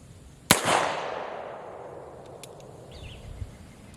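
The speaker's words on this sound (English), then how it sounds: "I'm shooting at a little bit of closer range" A single sharp shot from a Pietta ACE revolver fired with .45 ACP rounds through a conversion cylinder at close range, loud and near, with a long decaying echo trailing behind and no talking.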